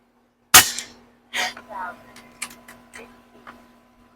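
A Barra 250Z air rifle firing, one sharp loud crack followed by a mechanical clack and several softer clicks and knocks of handling in a quiet setting with a faint steady hum.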